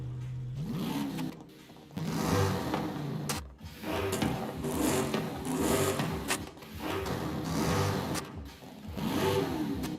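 Tuned car engine with race fuel, race ignition and upgraded parts in the racing game Forza Horizon 5, revving up and down in repeated loud surges with a buzzy, raspy tone and no talk.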